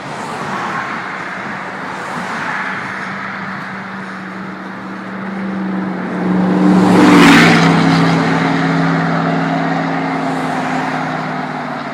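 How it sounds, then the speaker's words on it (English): Cars drive past on a road beside a cyclist, a steady roar of traffic that swells as a vehicle passes close by at mid-clip, then eases back to a continuous hum, loud and near. "So those cars came from the light."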